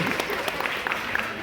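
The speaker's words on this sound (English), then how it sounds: "Give yourselves a big round of applause for being smart enough to be here" An audience at a Fright Fest night magic and mentalism show claps loudly in a brief, dense burst of applause, many hands together at close range.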